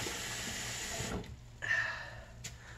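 Hot water runs steadily from a tap as a continuous rushing gush for about a second, then drops to a quieter flow with a faint squeak partway through.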